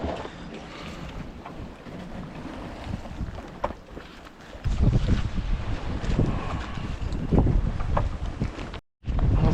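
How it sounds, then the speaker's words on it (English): Wind blowing over an ocean sailboat, a steady roaring rush with buffeting microphone gusts that strengthen partway through, a brief cut near the end. "this wind is starting to work in now"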